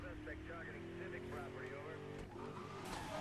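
A Ford F150 truck in the racing video game Need for Speed Most Wanted during a police pursuit, engine whine and tire noise under hard braking, with someone talking over the game sound.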